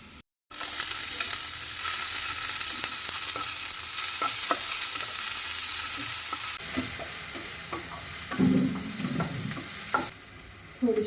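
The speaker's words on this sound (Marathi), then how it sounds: "आपला कांदा मस्त भाजलाय त्याच्यामध्ये आता टोमॅटो टाकायचं" Tomatoes stirred into fried onions and curry leaves in a hot pan, a continuous close sizzle with intermittent scraping and clinking of the spatula, growing a little busier toward the end, no talking.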